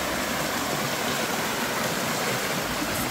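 A waterfall and river stream at a village river in Jamaica produces a continuous dense rushing roar, loud and close, without pause or voices.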